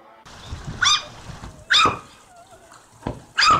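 A tiny puppy gives three short, high yips spaced apart, close by, over a faint background.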